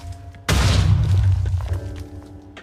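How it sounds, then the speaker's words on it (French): A TNT cannon explodes in a blocky building game, a sudden loud boom that hits hard and then rumbles and crackles for a couple of seconds with debris-like clatter before fading. No one speaks. "j'ai explosé mon canon par accident"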